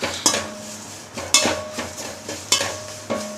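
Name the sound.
curry leaves being roasted and stirred in a pan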